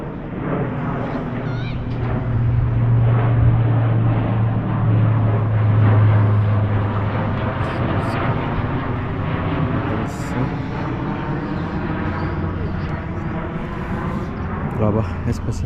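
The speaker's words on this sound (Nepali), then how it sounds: "यो चाहिँ माथि हवाईजहाज पनि हिँडिरहेको छ।" Airplane passing overhead above a hilltop near Kathmandu, a low steady drone that holds for several seconds, fairly loud, while someone talks throughout.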